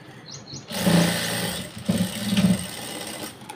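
A sewing machine runs a straight seam on garment fabric, starting abruptly into a steady close whirring hum, pausing briefly, then running again before stopping.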